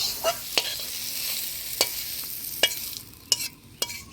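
Sliced pointed gourd frying in oil until browned, a steady sizzle broken by sharp scraping clicks of a spatula stirring the pan every second or so, with no voices.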